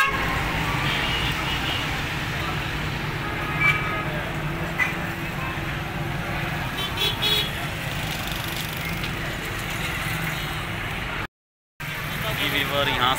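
Traffic at Garh Mor main chowk forms a dense, steady roar of engines and road noise, with scattered horn toots on top and voices mixed in. A short break in the sound comes near the end.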